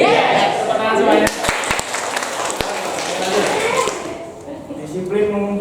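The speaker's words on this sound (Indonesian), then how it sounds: "Tepuk tangan semuanya." A class of students applauding together, a dense wash of hand claps with a few sharper taps, with voices chattering over and around it.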